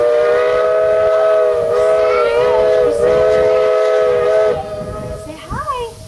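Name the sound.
train passing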